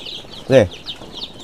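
Laying hens in a poultry house during Gumboro vaccination give one loud, close squawk amid softer chirps and clucks.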